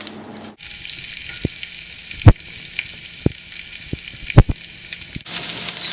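Vegetables sizzle steadily in a hot frying pan as toppings for a vegan pizza, a dense close hiss broken by a few sharp pops and clatters of stirring, with the sizzle surging louder near the end.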